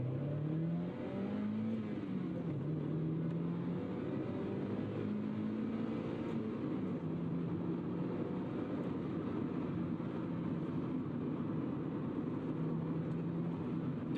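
A Mazda Miata engine under a full-throttle pull, droning steadily as the revs climb through each gear, dropping briefly at the shifts and climbing again, heard from inside the car with continuous road noise and no talking.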